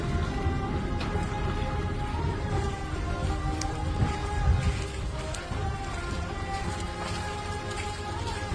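Steady rain pours down with a dense hiss, scattered drips and a low rumble underneath, continuous throughout.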